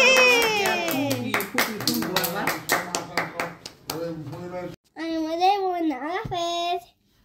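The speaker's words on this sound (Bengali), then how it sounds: "হাততালি" Rapid hand claps follow a birthday song, a quick run of sharp claps for about four seconds mixed with children's excited voices, then a voice continues alone.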